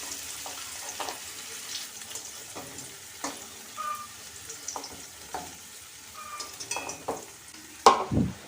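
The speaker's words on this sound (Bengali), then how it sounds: "ওলটাকে আমি একটু ভালো করে ভেজে নেব।" Chunks of elephant foot yam frying in oil in a wok, heard as a faint, steady sizzle broken by soft stirring scrapes and a louder clatter near the end.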